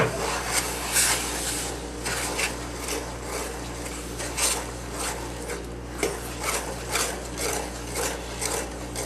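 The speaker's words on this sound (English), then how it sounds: "And a wooden spoon, and you're going to stir" Wooden spoon stirring fudge ingredients and melting butter in a pan, a rhythmic scraping and rubbing that repeats about once a second, close and steady with no talking.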